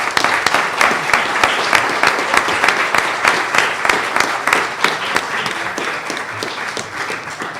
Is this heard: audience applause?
yes